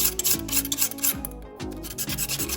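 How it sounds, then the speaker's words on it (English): Razor blade held flat, scraping old gasket material off the engine block of a Corvette C3 during water pump work; close, steady rasping strokes in a repeating back-and-forth rhythm, with no talking. "razor blade, and you're gonna clean all the old gaskets off perfectly"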